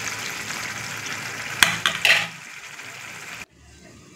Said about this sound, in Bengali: এদিকে আমার মাংসটা ভাজা চলছে